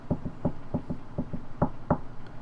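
Light, quick knocks on a wooden door come in an uneven series of about eleven soft raps, close and clear, with nothing else behind them.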